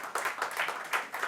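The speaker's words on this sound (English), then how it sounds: "You can applaud them" An audience at a conference event gives a brief burst of close, crisp clapping.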